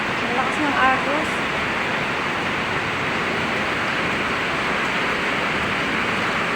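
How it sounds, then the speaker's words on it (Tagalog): Floodwater surges through a river channel after a sudden heavy downpour, making a loud, constant broadband roar that continues unbroken from start to finish. A voice speaks briefly near the start. "Ang lakas ng agos, guys, no?"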